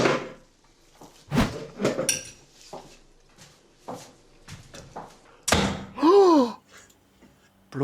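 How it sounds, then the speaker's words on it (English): A door is slammed shut inside a home during a dinner party competition, giving a few sharp, loud thumps among quieter household clatters, with no talking. "Bro just slammed the door in someone else's house."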